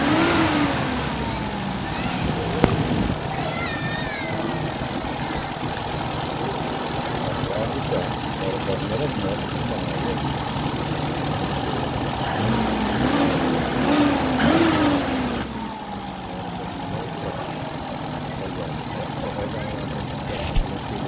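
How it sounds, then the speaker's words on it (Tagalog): A Toyota 4K engine idles and revs with a misfire, a steady, close mechanical drone that rises and falls in pitch as the revs climb and drop. Someone talks over it. "ano na palyado siya pagka nire-red so nabakasan natin ayan pero pag mataas ng RPM niya ayan hindi na siya palyado"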